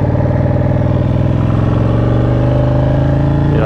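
A Ducati 899 Panigale motorcycle engine revs loud and close, a continuous throbbing roar that climbs slightly in pitch across a few seconds.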